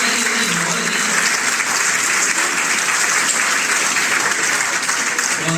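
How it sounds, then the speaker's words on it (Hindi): Loud audience applause at a Jain devotional poetry recital, a thick, sustained roar of many hands clapping at a steady, unbroken level throughout. "तो एक बार जोरदार तालियां बजाकर"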